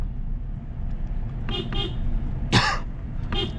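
A JCB's horn honks on the road, a few short blasts heard over a steady engine rumble, with one louder sharper toot in the middle.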